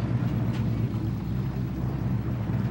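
A lifted Chevrolet Trailblazer with aftermarket suspension ploughs through water in the MudRunner game, a steady low rumble of engine and churning water with no breaks.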